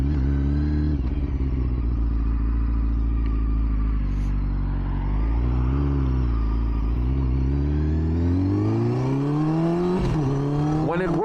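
A 2005 Triumph Daytona motorcycle engine revs while being ridden, its loud, close growl rising and falling through the gears with a surging climb near the end.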